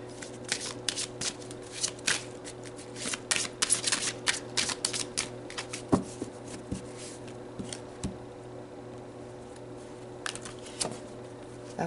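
Tarot cards are shuffled up close in quick, crisp riffling bursts with soft slaps and pauses between them, against a faint steady background hum.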